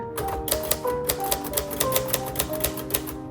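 Keys strike sharply on a 1956 Royal Quiet Deluxe manual typewriter, a quick uneven run of close, crisp clacks with a small bell-like ding partway through.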